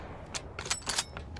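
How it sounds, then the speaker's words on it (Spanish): Several sharp gunshot bursts from the video game Rust, clustered mid-clip, moderately loud over a low background hum. "Justo pega un tiro cuando disparo"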